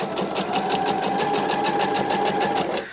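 A sewing machine stitches a skirt waistband about 2 mm from the waist seam, running in one fast, steady, close burst for nearly three seconds before stopping.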